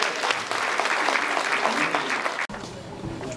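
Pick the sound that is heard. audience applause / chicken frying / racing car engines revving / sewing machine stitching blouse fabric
audience applause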